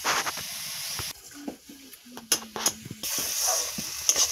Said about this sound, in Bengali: তাহলে এরকম নাড়তে নাড়তেই শুকনো করবো আমি।